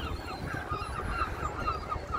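Harsh honking squawks from seagulls fighting along a breezy Blackpool seafront, repeated cries over steady wind rumble, fairly faint and distant.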